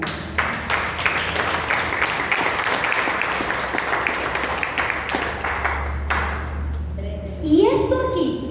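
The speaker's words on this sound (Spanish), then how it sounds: "Denle un aplauso al Señor un momento." A church congregation applauding, dense steady clapping that fills several seconds and then tapers off, followed by soft tones and a voice.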